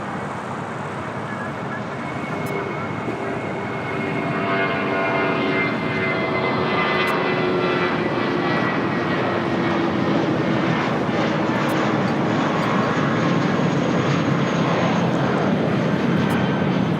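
A Ghost Rider aircraft rolls down runway 25 right at LAX for takeoff, a steady broadband engine roar that builds and stays loud throughout, with faint radio chatter from the tower mixed in.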